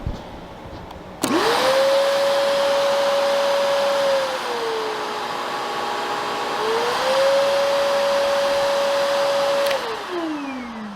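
A Kenmore 600 vacuum cleaner, once fixed after failing to turn on, switches on with a sudden whoosh and runs with a steady loud motor whine that dips and rises in pitch before shutting off and spinning down.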